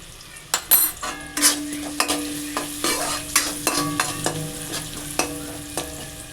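Chopped onions with fenugreek seeds frying in a pan for an okra dish, sizzling under repeated sharp scrapes and clinks of a metal spoon stirring against the pan, close and loud.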